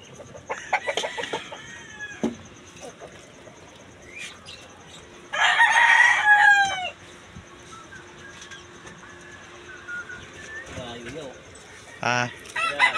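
Fighting roosters crow outdoors, with one loud, close crow in the middle and fainter crows and clucks around it, while people talk quietly in between.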